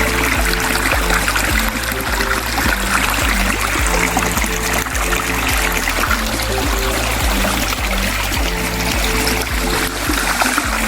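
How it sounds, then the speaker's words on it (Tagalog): Strong rushing water of a waterfall inside a private property in Lopez, Quezon, a loud, steady broadband roar filling the scene without pause, close by and uninterrupted throughout. "Lakas ng tubig."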